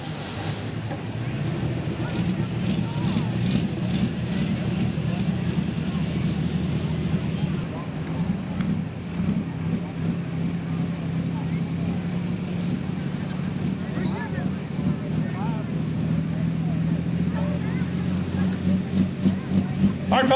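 A diesel-powered orange Allis-Chalmers pulling tractor at a night truck and tractor pull in Ardmore, Tennessee, its engine droning loudly and steadily throughout with a low rumbling tone, wind noise and an announcer's voice over it.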